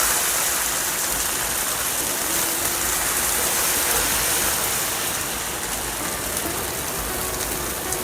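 Wheat dosa batter poured onto a hot pan sizzles in a loud, continuous hiss that holds steady throughout, close and without any voices.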